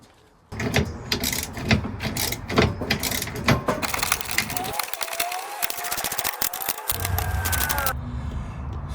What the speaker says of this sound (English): So we've got the 4 bolts in now, all tightened up.